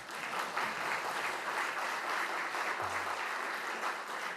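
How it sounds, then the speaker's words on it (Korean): A crowd at a policy forum on popular culture artists claps steadily and densely throughout, a sustained even wash of applause with no talking over it. "박수 한번 주십시오."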